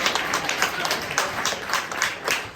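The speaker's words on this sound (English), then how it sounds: "I want you all to give a warm round of applause for yourselves for coming out" Audience applause at a cabaret show in Ketchikan, dense steady clapping from a crowd filling the room at a fairly loud level, rising and falling slightly but never stopping.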